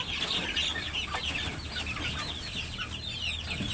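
Pet chickens cluck and chatter steadily at close range, a busy overlapping stream of soft clucks and higher calls with no pauses.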